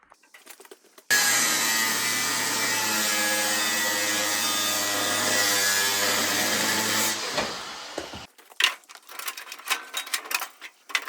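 Wire being cut off a Ford half-track tractor in a shop: a loud, steady, harsh cutting noise runs for about six seconds, then stops and gives way to scattered clanks and handling sounds.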